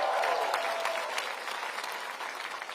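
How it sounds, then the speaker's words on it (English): Dense applause from a crowd at a political rally fills the space, loud at first and then easing slightly while continuing steadily. "Give him a round of applause."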